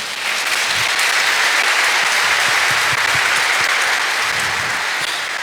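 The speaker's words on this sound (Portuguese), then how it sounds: "Uma salva de palmas a Ele." Steady, dense applause from a sizable church congregation during Mass, loud and sustained without a break for several seconds.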